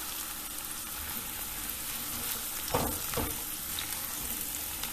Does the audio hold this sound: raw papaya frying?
yes